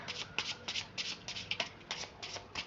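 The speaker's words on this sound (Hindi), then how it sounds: "कार्ड्स को मैंने ऑलरेडी शफल कर रखा है, लेकिन मैं एक दो बार और मिक्स करूंगी बस।" A deck of tarot cards is shuffled by hand, producing a quick series of soft, papery riffling bursts in a steady rhythm, close and fairly quiet with no talking.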